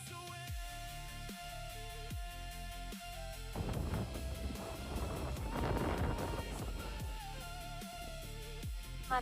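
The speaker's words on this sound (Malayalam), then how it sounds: "നല്ല കാറ്റുണ്ട് ഇപ്പോഴും" Strong wind at Mercer Bay on New Zealand's coast buffets the microphone in rough, broadband gusts that swell loudest midway through, over a faint quieter background.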